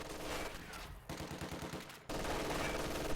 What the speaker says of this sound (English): MG42 setting up here, firing on conscripts